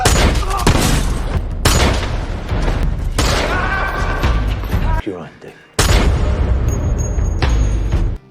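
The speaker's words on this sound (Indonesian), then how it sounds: "Ketika Hill sedang memindahkan uang itu, sontak ia menembaki para perampok itu dengan tepat sehingga mereka tewas" Gunfire in a shootout with robbers from the 2021 action film Wrath of Man: loud, sharp shots in bursts of about five or six reports, with a short lull midway before a final heavy volley.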